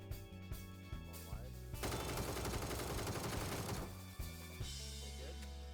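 Gunfire in the battle royale game PUBG: a few single shots, then a dense burst of rapid automatic fire lasting a couple of seconds, followed by more sharp single cracks, loud and close with no talk.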